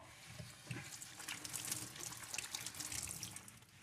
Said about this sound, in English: just gonna wash my hand again